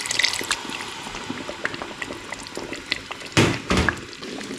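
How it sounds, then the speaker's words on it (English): Whisky poured into thick reduced bitter marmalade simmering in a pot, a close gurgling splash of liquid with bubbling and small drips, two stronger pours near the end, no talk. "So in goes my half a cup to a cup of whiskey."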